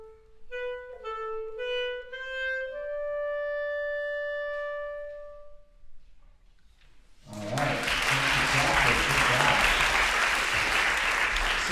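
After a short melody played on a clarinet by a child composer, a concert audience breaks into loud, sustained applause that fills the hall and keeps going steadily to the end.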